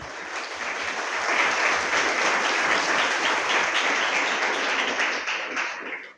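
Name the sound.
audience applause for the speaker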